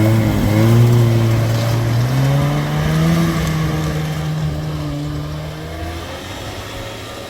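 A Yamaha snowmobile engine runs loud and close during an idle check after repairs, revving briefly and then settling into a steady, slowly fading hum.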